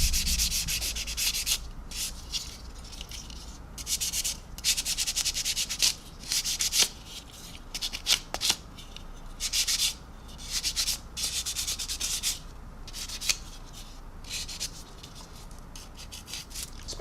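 Painted wings of a 1/144 Zvezda Boeing 737-800 plastic model being rubbed down, with close rhythmic scratchy strokes in repeated bursts and short pauses between, no talk.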